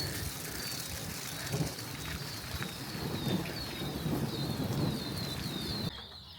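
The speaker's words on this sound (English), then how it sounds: "The rain started coming down extremely heavy as we were doing it" Heavy rain pouring down during a thunderstorm on a farm, a dense continuous hiss with low rumbling and faint bird calls, cutting off abruptly near the end.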